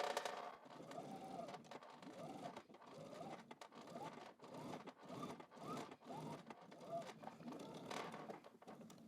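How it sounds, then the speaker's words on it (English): A sewing machine stitches a leggings seam with backstitching, a quiet rhythmic mechanical whir in short runs with brief pauses. "we're going to backstitch at the beginning and also at the end"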